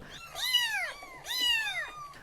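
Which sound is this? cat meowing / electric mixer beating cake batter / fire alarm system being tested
cat meowing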